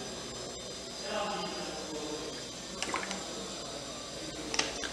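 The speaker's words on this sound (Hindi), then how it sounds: "इसमें हम अपना ये कोकोनट ऑयल जो है इस तरह से डाल देंगे।" Coconut oil poured from a bottle into a kadhai set on a gas stove: a soft, steady liquid glug and trickle, fairly quiet and close, with a couple of brief splashy spikes near the end.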